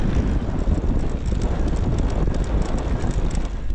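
Strong wind in a Kenyan desert roars steadily across the microphone, a dense, continuous rumble with no let-up and no voices.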